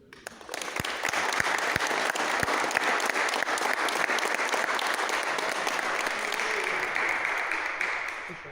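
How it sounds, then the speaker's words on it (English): Sustained audience applause at a crokinole tournament bronze match, a dense steady wash of clapping from a crowd that swells quickly and holds evenly for several seconds before easing. "please applaud the participants, the best 4 players on this singles tournament"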